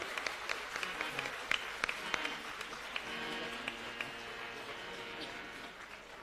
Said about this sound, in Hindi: एक बार जोरदार तालियों से आप आभार करें और अभिनंदन करें।